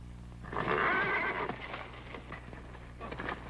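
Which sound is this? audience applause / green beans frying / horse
horse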